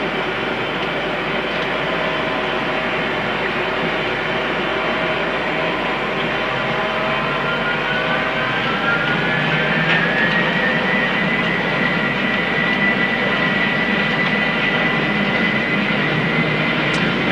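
Inside a flight simulator, airliner engines hold a steady loud roar through the takeoff roll while a high whine climbs in pitch and then holds. No one speaks over it.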